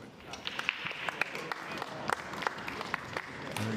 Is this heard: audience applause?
yes